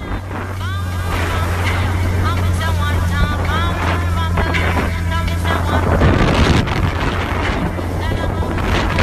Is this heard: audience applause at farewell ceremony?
no